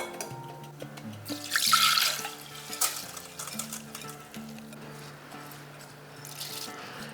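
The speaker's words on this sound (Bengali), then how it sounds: "এরপর জলটা ড্রেন করে দেব" Water drains off soaked rice and lentils in a brief splashing pour near the start, followed by faint trickling over soft background music.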